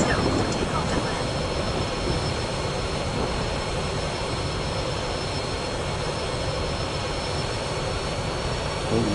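Concorde jet engines roar steadily in Aeroplane Flight Simulator Evo, a constant loud broadband rush with a faint high whine running unchanged throughout.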